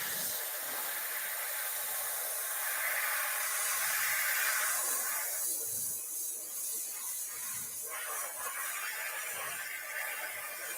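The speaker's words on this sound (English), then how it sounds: "It's actually spraying nice today." An aerosol can sprays green paint onto an RC10T6.1 RC car body in a steady, continuous burst, close and fairly quiet, with slight variations in pressure.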